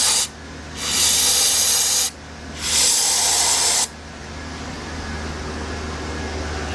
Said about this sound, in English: I don't wanna spray a little carburetor cleaner down in here